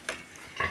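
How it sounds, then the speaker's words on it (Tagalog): Pet sows on a farm give two short, low grunts a half-second apart, fairly close against a faint background hum. "titingnan natin yung alagang baboy na inahin ni na Jessa"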